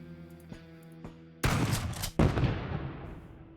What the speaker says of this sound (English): Here they are, smoking me out again with a thermal grenade.